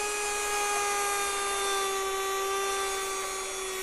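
A mini cordless vacuum runs steadily up close while sucking up granola, a continuous high-pitched motor whine with a constant tone throughout and no talking.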